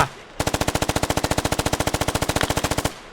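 Rapid automatic gunfire in the video game Squad: a sustained burst of about thirty evenly spaced shots, loud and close, stopping abruptly after a couple of seconds.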